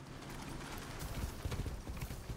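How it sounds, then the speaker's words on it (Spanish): Horse hooves galloping in the Far Cry 6 video game, a steady, busy clatter of close hoofbeats that runs without a break through the whole stretch. "el caballo de ella o va más despacio o el mío puede seguir corriendo"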